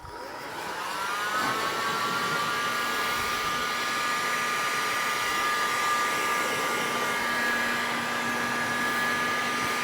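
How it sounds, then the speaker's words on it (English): A hot air gun drying a car body panel during dent repair, giving a steady loud whirring blow with a high whine that starts up in the first second and then holds constant, close to the listener. "So what I do to make this dry is I use a hot air gun."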